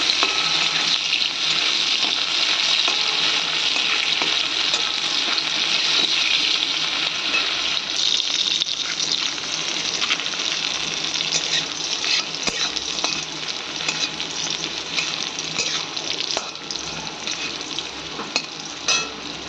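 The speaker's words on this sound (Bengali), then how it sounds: "একটা ছোট সাইজের পেঁয়াজ কুচি করে রেখেছিলাম, সেটা এর মধ্যে দিয়ে দেবো। দিয়ে একটু নেড়ে চেড়ে নেব।" Finely chopped small onion frying in a pan of oil and being stirred, a loud continuous sizzle with scraping stir noises throughout, easing slightly in the later part, with no one talking.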